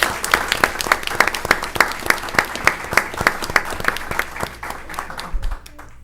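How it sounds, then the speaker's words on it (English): An audience at a school board meeting gives a round of applause for a student, with individual claps standing out sharply in a fairly small crowd before the clapping stops abruptly near the end. "let's give her a nice round of applause"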